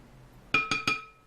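Three bright clinks of a spoon striking a glass dish, evenly spaced and close, each ringing briefly before fading into a quiet room.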